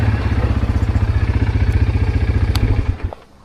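A Bashan 300 ATV towing a 600 kg trailer chugs under throttle with a rapid, even engine pulse, loud and close, before the revs drop off sharply near the end.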